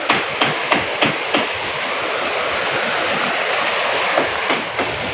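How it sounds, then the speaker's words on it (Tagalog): Strong water surges and churns at a waterfall with pools in a Philippine province, a loud, steady rushing roar with a few sharper splashes and no voices. "Lakas ng alon eh."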